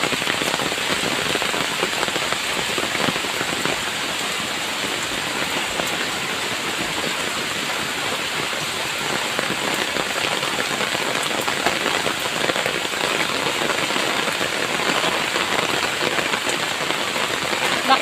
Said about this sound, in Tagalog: Yan, lakas na ng ulan oh.